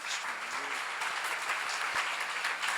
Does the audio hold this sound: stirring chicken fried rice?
no